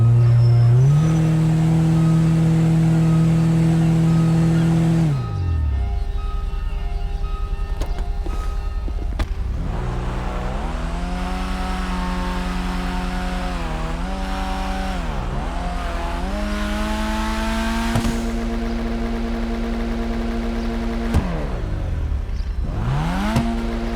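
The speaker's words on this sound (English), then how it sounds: "talk a bit about the actual engine sound itself" A 1984 Karin Futo GTX sports car engine in Grand Theft Auto: San Andreas drones at a steady pitch, then revs up and down repeatedly with rising and falling whines, loud and close.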